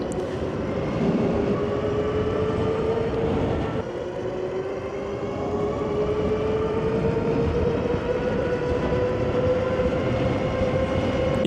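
Amyet S8 dual-motor e-bike launching hard in dual-motor mode, a steady electric motor whine rising gradually in pitch over broad rushing wind and road noise, loud and continuous throughout.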